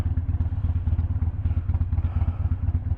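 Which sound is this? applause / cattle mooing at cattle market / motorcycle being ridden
motorcycle being ridden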